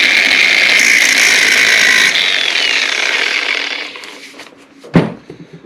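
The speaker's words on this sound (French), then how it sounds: "Je pense que je vais mettre un coup de disqueuse et puis ping, les sortir" An angle grinder cuts into the bearing housings on the wheel hubs of a Peugeot 205 GTI, a loud close-up whine that fades as the disc winds down and then ends in a sharp metallic clank and a few knocks.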